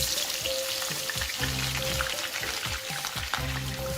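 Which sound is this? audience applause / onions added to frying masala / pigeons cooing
onions added to frying masala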